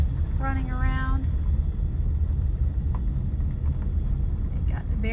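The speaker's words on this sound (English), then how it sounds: "See a few work trucks running around." Work trucks drive around the grounds of Talladega Superspeedway, heard as a steady low engine rumble that holds throughout at a moderate level, with a brief tonal hum near the start.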